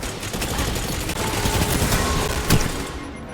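Sustained machine gun fire rattles in rapid, continuous bursts in the video game Destiny 2, loud and close, with a heavier shot punching through near the end.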